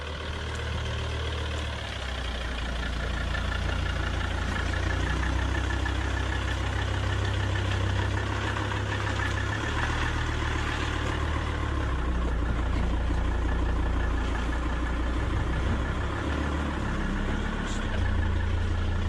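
A 1982 Bedford CF1 motorhome's engine runs steadily at low revs as the vehicle manoeuvres, a continuous close rumbling drone with no breaks.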